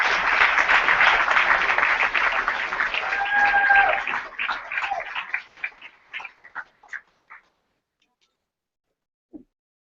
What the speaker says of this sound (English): Clap it up for her one good time.